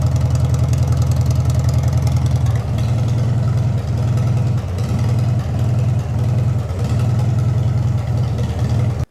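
A Farmall 404 tractor engine runs with no muffler and its hood off, a loud, steady, throaty idle with a rapid low pulse that dips briefly a few times before settling back.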